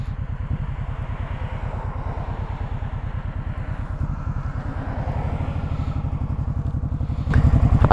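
A Suzuki C90 BOSS motorcycle rides along with a steady low, rapid thumping exhaust beat, heard close and continuous, with faint wind noise and a rise in throttle near the end.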